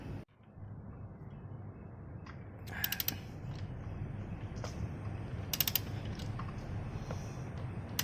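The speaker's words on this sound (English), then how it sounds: "we crank the crankshaft 1 round back to this position, where cylinder 4 will be at the top dead center" A ratchet wrench turning the crankshaft of a Kawasaki ZX-10R engine during a valve clearance check, giving two short bursts of rapid clicking over a low steady background hum, close and without talk.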